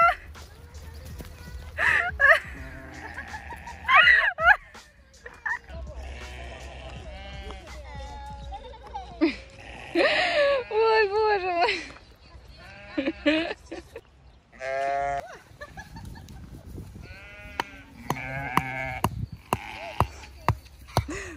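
Sheep and a ram on a farm bleat repeatedly in wavering, drawn-out cries at varying distances, scattered across the scene between stretches of people talking.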